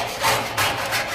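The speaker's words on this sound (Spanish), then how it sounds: "El platero recorta el dibujo de la chapa y cala los huecos con la segueta." Silversmith's fretsaw cutting openings into a metal plate, a close, steady rasping saw stroke repeating in a few quick passes with no voices.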